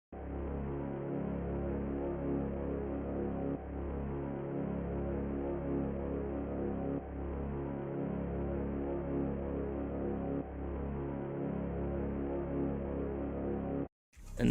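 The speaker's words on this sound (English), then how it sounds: "next I added another one-shot from Shark's kit, just like a low brass to accent the piano" A low brass one-shot from a producer's sample kit accents a piano in a glo-style trap beat, with deep, sustained brassy tones that restart every few seconds over a steady low bass drone, and no voices.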